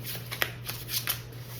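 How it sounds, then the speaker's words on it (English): Tarot cards shuffled by hand in a short burst of quick riffling and flicking, close and fairly quiet over a low steady hum, with no talking. "I am going to shuffle this last one here."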